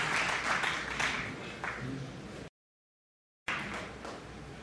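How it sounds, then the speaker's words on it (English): Snooker arena crowd applauding during a Players Championship quarter-final, a steady broad wash of clapping that drops out briefly mid-way before resuming at similar strength. "Plenty of crowd encouragement for Day."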